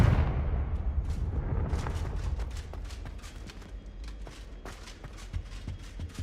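Blast from a Confringo explosion spell in Witch Simulator 2023, a heavy low boom at the start that fades into a rumbling tail, followed by scattered small crackles and debris-like ticks.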